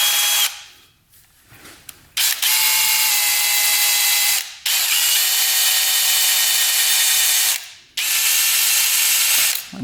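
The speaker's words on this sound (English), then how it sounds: "so to get this crank seal out, we're gonna drill" A power drill boring into an engine crank seal, whining in long steady bursts with short pauses between runs, loud and close with no talking.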